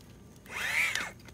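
A power drill spins a KitchenAid/Whirlpool refrigerator ice auger clockwise, a single short burst that whines up in pitch and winds back down, close and fairly loud over a quiet background.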